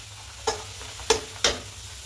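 Peas kachori fry in hot oil in a kadai, a soft steady sizzle broken by three sharp utensil clicks spaced irregularly, close and moderately quiet with no voices.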